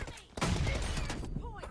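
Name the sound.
gunfire in the video game Free Fire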